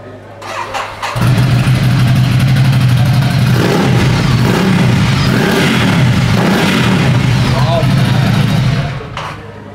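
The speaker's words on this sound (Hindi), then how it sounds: "एक बार डुकाटी मॉन्स्टर की आवाज सुना ना, उसमें आई थिंक एग्जॉस्ट भी लगा है।" A Ducati Monster twin-cylinder motorcycle with an aftermarket exhaust fires up and revs, a loud, deep, throbbing roar that holds steady for several seconds before cutting off, with brief talk at the start.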